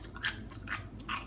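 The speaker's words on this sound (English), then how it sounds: "nice and crunchy" Crunchy raw snap peas being chewed close up, a few sharp crisp bites in quick succession, faint and alone with no talking.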